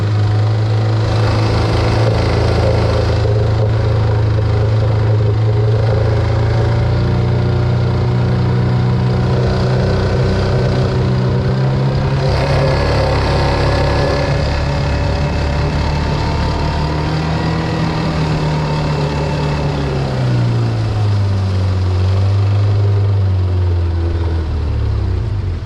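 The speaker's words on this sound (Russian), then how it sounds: "Вон как работает мотор." Small outboard boat motor running steadily on the Pechora river, with a continuous rough drone and crackling rattle from worn bearings, close and loud throughout with slight pitch shifts as the throttle changes.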